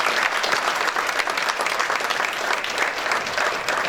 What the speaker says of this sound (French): Allez, venez, n'ayez pas peur, applaudissez-les.